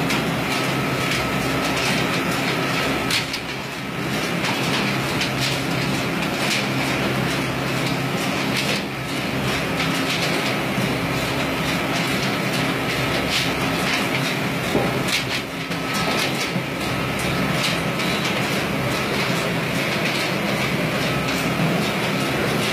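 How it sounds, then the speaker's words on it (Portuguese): Tile-making machines in a factory run fast and loud, a continuous rattling, clattering mechanical roar with a rapid repetitive rhythm, heard alone for over twenty seconds. "a velocidade dessas máquinas aqui com esses caras trabalhando aqui"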